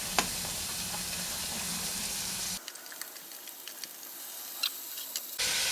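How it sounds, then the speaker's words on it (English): Onions sizzling in warm bacon grease for a bacon shrimp chili fry, a steady hissing fry that cuts to a quieter stretch of softer crackle with small clicks before the hiss returns. "Now I'm going to saute the onions until they are translucent and sweaty."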